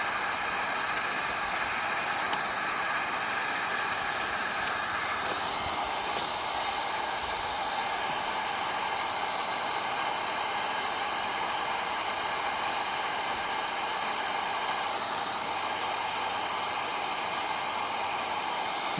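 Hot-air hand welder blowing steadily while heating HDPE pipe through from the outside at an inside corner, a continuous close airy roar with a high whine that holds level throughout, no talking.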